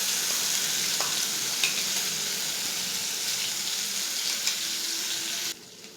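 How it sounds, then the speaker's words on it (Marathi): Ground spice paste for stuffed brinjal fries and is stirred in a hot pan over a cumin and mustard tempering, giving a loud, steady sizzle that drops away abruptly near the end. "इकडे मसाला आपल्याला चांगला भाजून घ्यायचा आहे"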